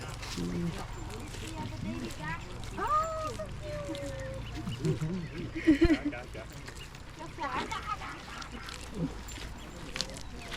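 Ducks quack in short, scattered calls on a hiking trail in Sapa, Vietnam, set amid steady outdoor background noise and people talking nearby.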